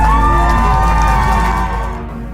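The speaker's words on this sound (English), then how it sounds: "Big round of applause for" A concert audience cheering and applauding a band, a loud dense roar of claps and shouts that gradually tapers off toward the end.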